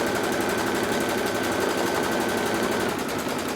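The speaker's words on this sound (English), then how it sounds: "It does stitch the tack down twice so that it has a little bit more security when you go to trim the fabric away." A Kimberbell embroidery machine stitches a tack-down line twice on fabric in the hoop, giving a steady, fast mechanical rattle that runs without pause and with no voices.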